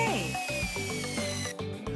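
A power drill boring into wood, its motor whining and shifting pitch with short pauses as it bites, close and steady, with faint background music underneath.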